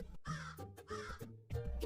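A crow caws three times in a harsh, rasping series, close and fairly loud, with brief pauses between calls.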